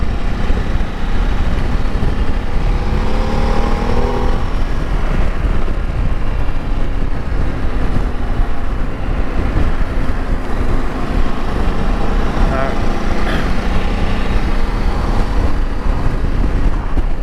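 A 2023 Ducati Desert X motorcycle ridden in cold, wet weather, its engine drone faint beneath loud, constant wind buffeting against the microphone for the whole ride.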